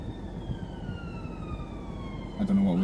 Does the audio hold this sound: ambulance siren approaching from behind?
yes